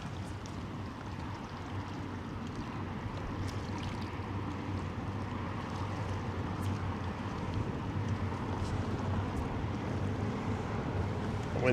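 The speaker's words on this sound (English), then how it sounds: "The wind's definitely picking up." Steady wind gusts buffet the microphone on a kayak fishing trip at sea near the Seven Mile Bridge in the Florida Keys, a continuous loud rushing roar with faint water sounds and light clicks underneath.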